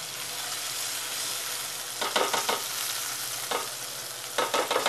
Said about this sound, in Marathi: ही फ्राय छान कुरकुरीत झाली असणार. जरा आपण पलटी करून बघूया.